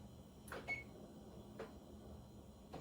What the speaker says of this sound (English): I'm gonna set the timer again